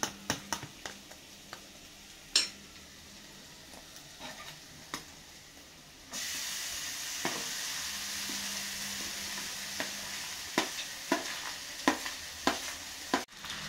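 Maggi noodles stirred in a pan, with sharp scattered clinks and scrapes of a utensil, then a steady soft sizzle rising midway under continued stirring taps.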